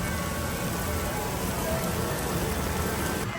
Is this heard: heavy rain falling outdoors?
yes